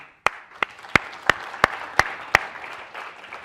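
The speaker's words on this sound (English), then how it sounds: "Actually, let's applaud them." At a university debate event, seven sharp, evenly spaced hand claps ring out close by, with a faint wash of crowd noise behind them.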